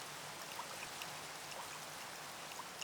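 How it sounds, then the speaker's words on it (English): Minecraft rain from the Cool Rain mod pattering on foliage blocks: a soft, even hiss of fine drops with faint scattered ticks, steady and continuous, no speech. "rain on foliage"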